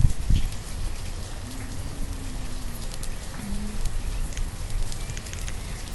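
Steady rain falling over a burning settlement in the medieval city-builder game Banished, a continuous hiss filling the whole stretch with a brief louder burst at the start and faint crackling beneath.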